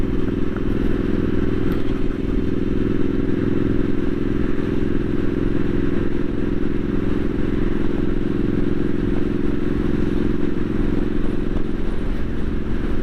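A Triumph Street Scrambler 900 motorcycle on an overcast day, its engine a loud, steady drone mixed with wind rush throughout, with no speech.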